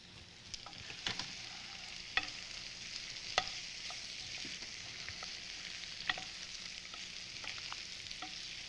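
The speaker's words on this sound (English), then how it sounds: "So now I'm just going to add all the zucchini" Zucchini sizzles steadily in a hot pan, a constant bright hiss punctuated by scattered pops and crackles, with no talking over it.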